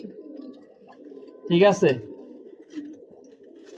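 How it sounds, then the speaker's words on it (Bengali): Tournament racing pigeons coo in a low, continuous burble. A voice briefly speaks a short phrase over the cooing partway through. "এ হচ্ছে কবুতর।"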